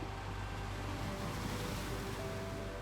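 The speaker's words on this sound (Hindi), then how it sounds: "समुद्र के किनारे। लहरें आ रही हैं, जा रही हैं।" Ocean waves wash onto a sandy shore in a steady, even roar of surf, with soft broadband rushing and no voices.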